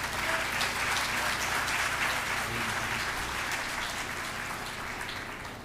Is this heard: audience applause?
yes